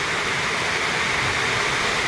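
Water rushes and swirls in a whirlpool, a loud, steady, unbroken wash of noise throughout.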